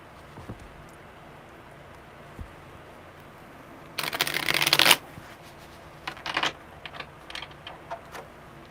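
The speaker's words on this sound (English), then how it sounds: "Okay, one more good shuffle." Tarot cards being shuffled during a live reading: one crisp riffling burst of about a second, followed by a few softer card taps and slides against a quiet room background.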